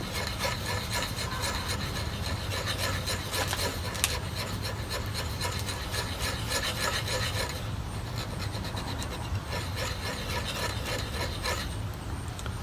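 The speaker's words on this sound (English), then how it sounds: "I'm going to mix it up." Two-part epoxy is stirred and scraped while being mixed for a Damascus knife handle made from a saw blade. The rhythmic rubbing and scraping is close and continuous, with no voices.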